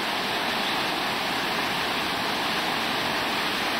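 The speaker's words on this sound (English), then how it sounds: "it's all mountain water." Rushing mountain stream in Austria, a steady, loud broadband wash of flowing water with no pauses or other sounds.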